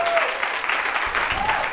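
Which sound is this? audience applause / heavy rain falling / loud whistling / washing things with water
audience applause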